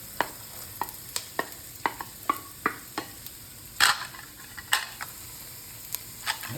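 Garlic sautéing in a pan, a soft background sizzle broken by regular sharp scrapes and taps of a spatula stirring, roughly twice a second, close and clear with no talk.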